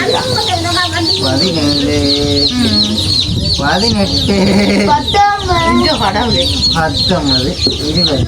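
Young chicks cluck loudly and busily close by, overlapping calls continuing throughout while a person speaks briefly.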